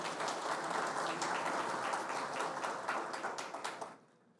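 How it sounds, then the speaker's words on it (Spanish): An audience at a political tribute event breaks into sustained applause, dense overlapping clapping at moderate distance that holds steady before thinning out and fading to quiet at the end. "para el que pido un aplauso"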